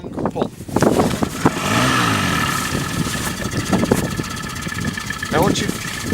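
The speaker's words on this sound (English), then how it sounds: "To start the engine from warm, just a little bit of throttle" An outboard boat engine is pull-started and settles into a steady mid-pitched idle, close and fairly loud, while someone talks over it.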